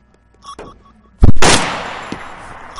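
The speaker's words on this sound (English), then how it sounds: "I just shot near him, I didn't shoot at him" Gunfire in Garry's Mod DarkRP: one loud, sharp gunshot cracks close by after faint clicks, then a long noisy tail rings out and slowly fades with no talk over it.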